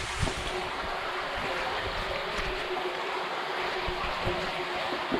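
Water rushing through a railway culvert on a CN rail subdivision, a steady broadband wash of flowing water that holds at an even level throughout with no speech over it.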